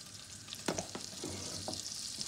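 A spoon stirs a roux of a tablespoon of butter and a tablespoon of flour in a saucepan, a soft, steady sizzle with a few scraping strokes, close and quiet, with no one talking.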